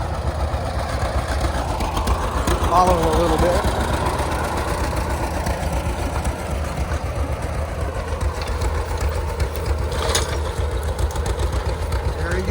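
A Farmall A tractor engine runs steadily at a low chug during a plow day, sitting in the background under brief talk from a person nearby.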